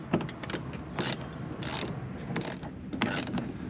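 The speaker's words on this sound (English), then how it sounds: "a 7mm is going to remove this bolt that's holding on this lower air dam" A 7mm socket ratchet clicks in short bursts, backing a bolt out of the lower air dam on a GMC Sierra 1500; close, crisp ratcheting in several quick runs with pauses between.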